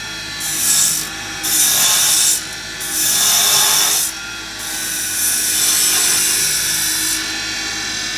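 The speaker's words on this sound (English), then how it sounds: "this little detail gouge is actually pretty dang aggressive" Scrap wood being carved with a small, aggressive detail gouge: repeated rasping scrape strokes in bursts of about a second each, close and fairly loud, with no talking.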